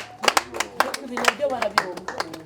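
A few people clapping in quick, uneven bursts of sharp claps, close by, with talking mixed in.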